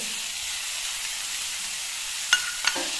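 String beans with mustard seeds frying in coconut oil in a pan, a steady soft sizzle with two brief sharp crackles near the end.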